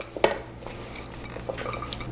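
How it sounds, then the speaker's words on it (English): Meal-prep food is stirred together in a container, giving soft scraping and light clinks of a utensil against the dish, quiet and continuous, with no talking. "So I'm just going to mix all of this together"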